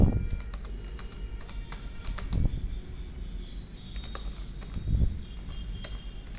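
Computer keyboard typing in MS Word 365 while a book reference is entered: a steady run of quick key clicks, with a few louder thumps and low background rumble.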